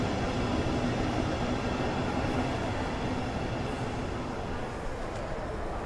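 S-Bahn Dresden electric train in Train Sim World 2, a steady rumbling run with continuous low rolling noise and a faint tonal hum, close and even throughout without clear talk.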